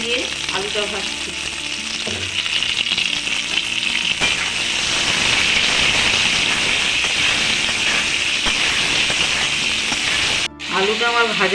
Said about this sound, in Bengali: হলুদ আর নুন দিয়ে আলুটা ভাজছি